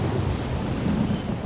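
Thunderstorm in the video game Death Stranding, a steady dense roar of rain and wind with a low rumbling undertone, continuous and fairly loud throughout.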